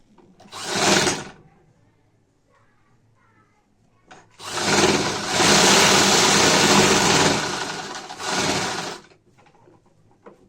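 Sewing machine stitching a decorative design onto a sleeve, running in two bursts: a short one, then a longer steady whirring run after a pause, loud and close with no talking.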